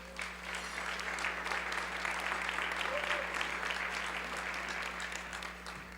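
A steady wash of audience applause greets a speaker at an arts awards ceremony and luncheon, with many hands clapping continuously at even loudness over a low hum from the room.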